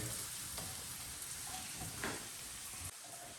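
Small shallots, green chili and ginger frying in a pan for a Kerala toddy-shop style tuna curry, a steady quiet sizzle with faint crackles and a few soft clicks, no talking.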